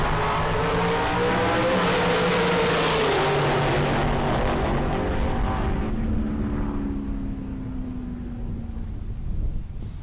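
A dragster tearing down the strip at a Tucson bracket race, engine roaring loud with a rising then falling pitch as it passes and recedes into the distance, with no talk over it.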